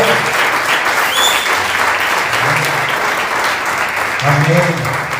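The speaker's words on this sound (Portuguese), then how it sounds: "Pode aplaudir que é para o Senhor." A church congregation at a Sunday service claps steadily and loudly, with a voice speaking over the applause at several points.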